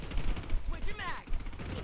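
Gunfire from the video game Warzone, a few bursts of shots under steady game noise and voice chatter, with a metallic reload-like sweep in the middle.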